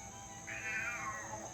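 A single drawn-out cat meow sounds at moderate distance over a steady high drone of cicadas outdoors.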